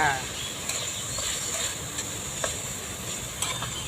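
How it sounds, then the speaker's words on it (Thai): Pork stir-frying in red curry paste with torn kaffir lime leaves, a low steady sizzle with rhythmic spatula scrapes and ticks against the pan, close and moderately quiet, with no talking. "ผัดไปเลย"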